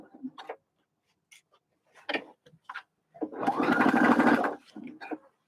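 A sewing machine stitches a bucket hat in short, separate runs of ticking needle strokes, then one longer, louder burst of fast stitching near the end, with quiet gaps between.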